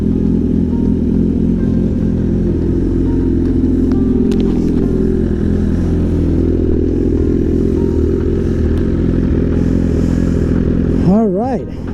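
A BMW S1000RR sport motorcycle engine runs at a steady loud rumble, close and continuous, with a brief rising rev near the end.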